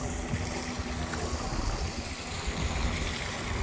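A waterfall beside a panda village at a lantern attraction, heard as a steady broadband rush of falling water that holds evenly throughout the short stretch.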